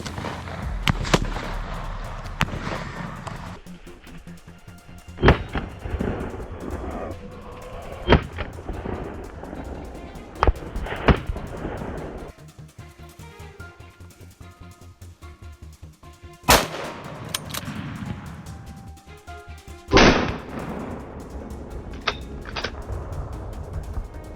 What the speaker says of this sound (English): A burst of gunfire rang out, cutting off its escape.